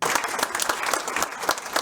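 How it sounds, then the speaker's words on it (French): An audience at a storytelling evening applauds Jean-Claude, a performer from Émoutier, with steady, dense clapping from a sizable crowd, close and continuous for the whole stretch. "on va applaudir très fort Jean-Claude"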